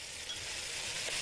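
Sauce stirred in a hot frying pan, a soft continuous sizzle with faint scraping from the utensil, quiet and close, no voices over it.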